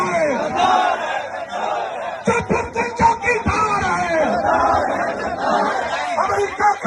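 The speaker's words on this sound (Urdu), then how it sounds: "آپ نے وہ نعرے سن لی ہیں۔" A crowd of political party supporters chants slogans in loud rhythmic bursts, with a mass of voices shouting together, close and energetic, amid general crowd babble.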